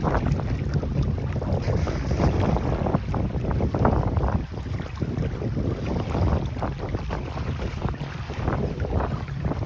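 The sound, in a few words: sailboat sailing under sail with engine off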